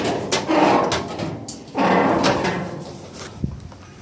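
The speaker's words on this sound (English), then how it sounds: "Let's see if I can get this hood open for you." The hood of a 1956 International S160 farm truck is worked open with metallic clunks, scrapes and creaks, including a sliding grind and a sharp knock near the end.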